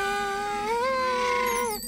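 A voice imitates the whirring of a spinning whirligig hat with a rising and falling wail that holds steady, then slides upward and cuts off abruptly after about two seconds.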